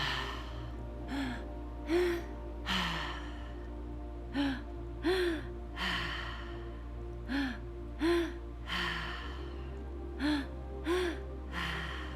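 Slow, deep breaths in a group breathwork class, each long exhale audible as a soft rushing breath, repeating at steady intervals of about one to two seconds, close and fairly loud, with no talking.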